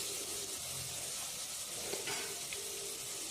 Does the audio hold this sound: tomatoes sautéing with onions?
yes